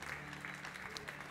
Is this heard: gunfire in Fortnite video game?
no